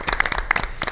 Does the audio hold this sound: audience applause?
yes